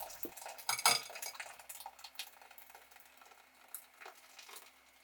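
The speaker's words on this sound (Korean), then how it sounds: "곱게 갈린 비스큐 스탁을 고운 채로 걸러줍니다." Finely blended shrimp bisque stock strained through a fine sieve, with light clinks and scrapes of a utensil against the metal mesh, close and fairly quiet, strongest near the start, with no talking.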